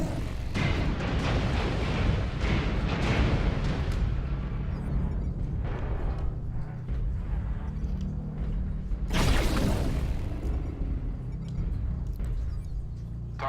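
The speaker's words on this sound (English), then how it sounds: "Airstrike online." Heavy airstrike blasts in a mech combat game rumble through a dense, continuous barrage of deep booms, with a sharp, bright burst standing out near the end, loud and close throughout.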